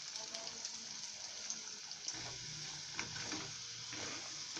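Raw plantain pieces frying in oil in a pan and being turned, a faint steady hiss of sizzling with a few soft scrapes and knocks, quiet and close.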